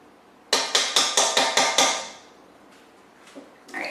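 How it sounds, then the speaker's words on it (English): Metal pin being driven out with the butt end of a screwdriver: six quick, sharp, ringing hammer strikes in an even rhythm, close and loud, followed by quieter faint handling knocks. "I'm going to hammer a little bit with this one"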